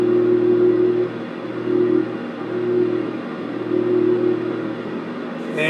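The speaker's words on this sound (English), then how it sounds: "My props are just a little out of sync" Twin propellers of a Baron aircraft droning slightly out of sync, a steady loud hum that swells and fades in a slow regular beat, heard from inside the cockpit.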